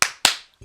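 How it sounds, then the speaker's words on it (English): Two sharp hand claps about a quarter second apart, close and crisp, each fading quickly, followed by a brief soft sound. "See what happens when I clap my hands?"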